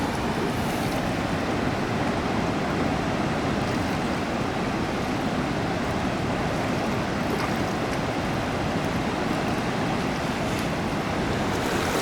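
The South Fork of the Smith River rushes through rapids in a steady, broadband roar of flowing water, close and continuous with some wind noise and no talk.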